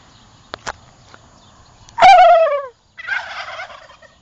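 Turkeys answer with one loud, close rolling gobble, followed by a softer burst of gobbling, after a few sharp clicks and knocks in an otherwise quiet setting.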